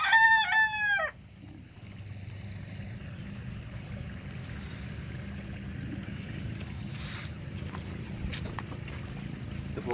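A rooster crows once, loud and close, at the very start, then gives way to a steady low outdoor rumble with faint scattered noises.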